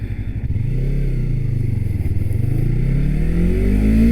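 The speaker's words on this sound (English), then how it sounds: "Has a parallel twin motor. Revs pretty high, I'd like to say, and I think the engine tone is decent." A 2019 Yamaha R3 ABS parallel-twin motorcycle engine revs loud and close, pitch dipping and then climbing steadily with a buzzy, high-revving tone, no talking over it.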